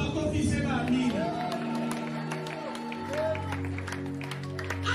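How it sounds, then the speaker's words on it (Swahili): A church congregation claps along under a preacher's amplified voice, with the applause faint and diffuse behind the speech. "Chapa makofi, sema amina."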